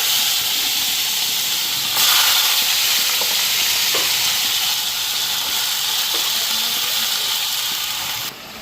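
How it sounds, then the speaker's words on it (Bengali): Potato and pointed gourd fry in a wok with a broad, steady hiss of hot oil. The sound stays close and constant, with a few faint clicks over the continuous sizzle. "আলু পাটল ভাজাটা বসাই দিয়ে নি"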